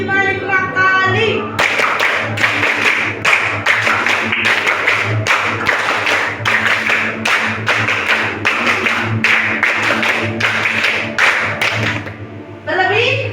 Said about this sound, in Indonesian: Sekarang tepuk angka 5 kali.